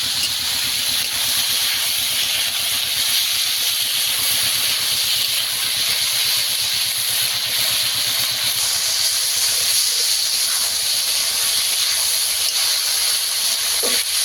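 Pakal fish and potatoes fry in a pan, giving a steady, bright sizzling hiss that carries on evenly throughout with no talking.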